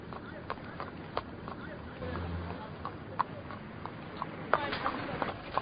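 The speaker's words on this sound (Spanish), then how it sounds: "Viajó con un carro tirado por un caballo" Hooves of a horse pulling a cart clip-clop in an uneven walking rhythm, moderately close, under someone narrating throughout.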